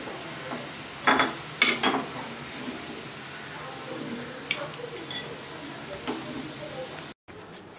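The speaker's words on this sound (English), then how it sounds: "we have to fry until it turns to brown color" Potato crispy balls frying in oil, with a faint continuous sizzle broken by a few brisk utensil scrapes and clinks early on, quiet and close.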